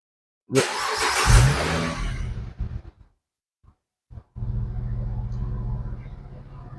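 A car engine cranks and fires up loudly during a battery starting and charging test, settles briefly, then is revved and held at a steady raised speed near the microphone.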